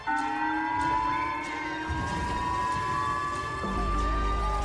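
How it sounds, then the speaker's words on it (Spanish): Sirens wail across a destroyed city, sustained tones rising and falling over a low rumble that swells near the end. "el sonido ensordecedor de sirenas y gritos le hicieron estremecer."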